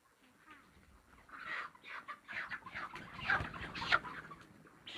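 A broiler rooster of about 2.2 kg held up on a poultry farm clucks and squawks in a series of close, agitated bursts that grow louder, with no talk over it.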